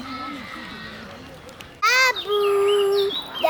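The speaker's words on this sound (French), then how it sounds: "il y a des oiseaux qui font des bruits de paix." Birds call out loudly at a bird park in a series of bright, rising chirps and a sustained whistled note, heard after a stretch of low background murmur.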